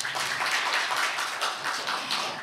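A big round of audience applause at a Korea–Japan small-business forum, dense and continuous clapping filling a hall, steady throughout with no voices.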